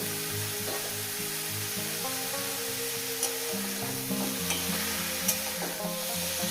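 Bathua greens dropped into hot oil in a pan for a fish chorchori, sizzling and crackling steadily at moderate level, with occasional stirring clinks and background music underneath.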